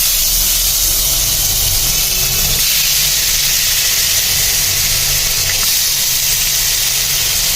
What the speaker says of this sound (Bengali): তাহলে এখন চলুন মাছগুলোকে আগে ভেজে নেই সুন্দর করে